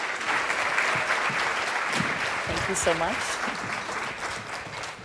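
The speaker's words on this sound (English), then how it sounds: "So bring your hands together, warm round of applause." An audience at a conference keynote lunch gives a warm, steady round of applause that holds for several seconds while a speaker briefly talks over it.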